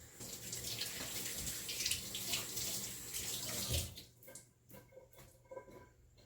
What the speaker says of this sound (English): Let me rinse my egg hands.